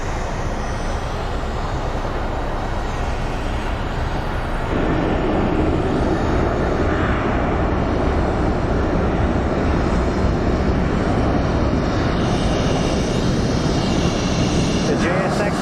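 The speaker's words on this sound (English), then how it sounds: "The Jsx plane we're looking at is going to be departing to San Diego" A JSX plane departing Phoenix Sky Harbor airport for San Diego makes a loud, continuous engine roar that swells noticeably partway through and stays heavy and unbroken to the end.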